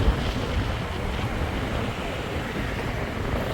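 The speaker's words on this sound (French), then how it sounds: "il y a beaucoup de vent, c'est assez chiant." Strong seaside wind at a hotel in Salou roars steadily and loudly, a continuous buffeting rush without pauses, close to the microphone.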